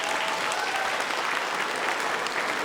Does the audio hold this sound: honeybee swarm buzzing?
no